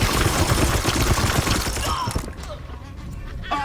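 Space Marines in Warhammer 40,000: Chaos Gate Daemonhunters unleash a dense, loud burst of rapid gunfire that rattles for about two seconds, then gives way to scattered clicks and a quieter tail.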